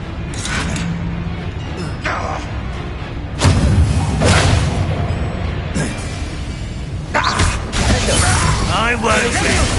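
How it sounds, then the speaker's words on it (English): A Bombarda blasting spell explodes in Hogwarts Legacy, a heavy booming thud around the middle among several crashing impacts, with a voice shouting over the combat noise. "Bombarda!"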